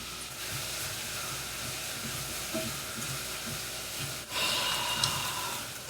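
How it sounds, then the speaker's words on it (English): Vegetables sauté in a pot for tomato bisque soup, giving a continuous soft sizzling hiss that grows slightly louder and brighter toward the end. "these have been sauteing for about, 5 minutes"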